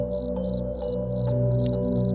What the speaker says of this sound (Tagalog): Tanging tunog ng kuliglig at ihip ng hangin ang maririnig.